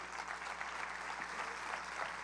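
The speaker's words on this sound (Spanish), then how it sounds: "un aplauso grande al Señor" Many people clap together in a large church congress hall, giving a big round of applause to the Lord; the sound is a steady, somewhat distant roar of hands without letup.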